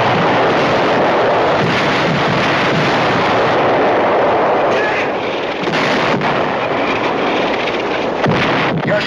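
Artillery firing on command in a World War II combat drama: a dense, sustained roar of gunfire and blasts with wind buffeting the microphone, loud and continuous throughout.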